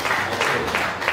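A crowd claps at a civil wedding ceremony, producing a dense, continuous patter of applause that is fairly loud and close, with no gaps across the short stretch.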